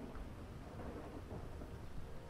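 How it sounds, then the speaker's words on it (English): A thunderstorm rumbles in the video game GTA V, with a steady wash of rain and low, faint thunder filling the background and no voices. "Why are we in a thunderstorm?"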